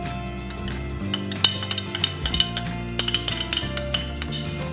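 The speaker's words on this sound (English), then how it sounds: "I'm just going to mix all the spices in." A spoon stirs spices into butter chicken curry in a pan, clinking sharply and repeatedly against the metal in an uneven rhythm over steady background music.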